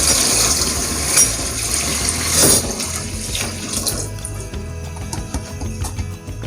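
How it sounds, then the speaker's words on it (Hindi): Water pours from a glass into a cooking pot of rice for Hyderabadi chicken pulao, a close splashing stream that ends partway through, leaving quieter kitchen background. "अब मैं डालूँगा चावलों के हिसाब से पानी"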